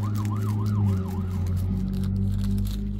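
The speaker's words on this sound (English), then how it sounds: "Oh, sorry about the sirens." Wailing sirens of emergency vehicles, fire trucks among them, rise and fall steadily over a loud low road rumble, continuous and fairly close.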